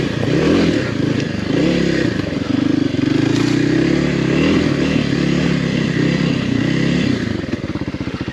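A Kawasaki KLX 300R dirt bike rides in first gear, its engine droning loud and steady throughout with a rough, buzzing tone and slight rises in revs, close to the rider.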